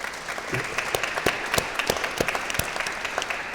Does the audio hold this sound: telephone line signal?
no